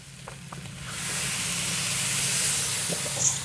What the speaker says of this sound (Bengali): কুচি মাছের তরকারিটা কি সুন্দর টকবক টকবক করছে